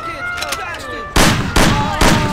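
Gunfire in the video game Mafia 1 running a Kurtlar Vadisi mod: three loud, sharp shots at roughly half-second spacing, each trailing off quickly, over a busy background of game ambience.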